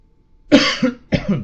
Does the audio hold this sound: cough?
yes